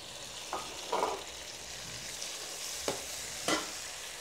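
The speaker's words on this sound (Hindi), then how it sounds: "टमाटों को अच्छा भून लेना" Tomatoes frying in a pan with onions, a steady sizzle broken by a few short stirring scrapes; no one speaks.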